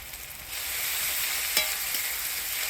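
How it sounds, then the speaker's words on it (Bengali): Onion frying in tempered oil with chopped tomato, ground spices and ginger-garlic paste, a steady close hiss that swells after half a second, with one brief clink of a utensil, and no voices. "পেঁয়াজটা ফোড়নের তেলে হালকা লাল করে ভেজে নিলাম এবার টমেটো কুচি দিয়ে দেবো বাটা মশলা আদা রসুন বাটা"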